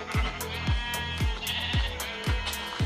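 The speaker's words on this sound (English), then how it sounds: "Let me just kill this sheep real quick." Sheep bleating in Minecraft survival mode, short repeated calls over a rhythmic series of low thumps that recur about twice a second.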